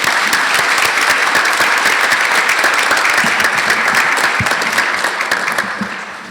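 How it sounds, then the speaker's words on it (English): Loud, dense crowd applause at a State of the City event in Ames, Iowa, steady clapping that starts tapering off near the end, with a brief spoken thanks under it. "let's give her a round of applause"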